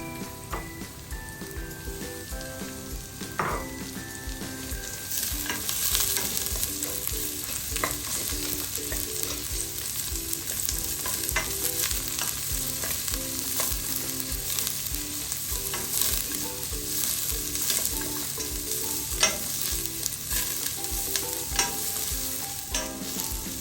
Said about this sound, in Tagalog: Luto na po yung ating bawang. Isusunod na rin po natin ang ating sibuyas.